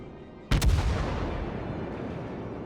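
A heavy cruiser's main battery fires in World of Warships: one loud, close salvo with a sharp double crack that rolls into a long, fading rumble.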